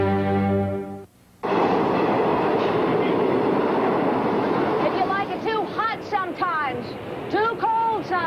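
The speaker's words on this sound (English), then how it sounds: "You'd love running this train." A train runs on rails with a steady, loud rumble and clatter in a 1986 TV commercial, starting after a short electronic tone and a brief pause, with whistling or squealing tones rising over it near the end.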